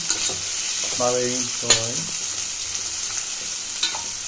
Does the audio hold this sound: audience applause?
no